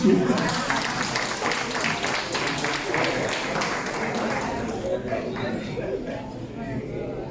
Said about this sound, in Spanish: Dense un aplauso.